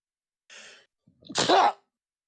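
A single person sneezes: a brief indrawn breath, a short pause, then one sharp, close, explosive burst.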